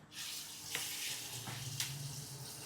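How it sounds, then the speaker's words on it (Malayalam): Chicken shallow frying in a pan with a steady, close hiss and sizzle, broken by a few brief spitting crackles. "ഇനി നമുക്ക് ചിക്കൻ ജസ്റ്റ് ഒന്ന് ഫ്രൈ ചെയ്തെടുക്കാം"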